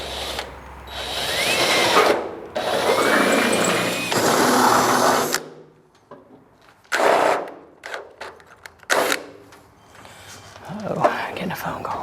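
Power drill boring hood pin holes into a car hood, several loud bursts of whirring with pauses between, the later ones short and choppy, with people talking nearby.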